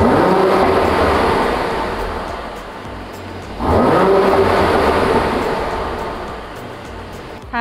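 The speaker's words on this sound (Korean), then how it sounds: "이 차량 배기음 들어볼게요." Exhaust note from a Mercedes-AMG C43 4MATIC sports sedan (W205 C-Class), a loud steady engine roar that eases off, then surges sharply with a rev midway before gradually settling again, heard close with no talking.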